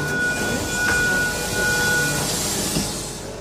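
Sydney Waratah T65 electric train departing Oatley station, a steady close rumble of wheels and motors with a sustained high whine throughout, no talking.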